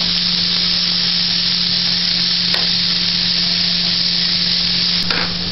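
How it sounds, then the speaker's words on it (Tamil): Onion and green chilli sauté in a pan with an even, dense hiss that runs without a break. A low steady hum sits beneath it, and there are a couple of faint clicks. "வெங்காயத்தையும் பச்சை மிளகாவையும் வதக்கிக்கிறோம்"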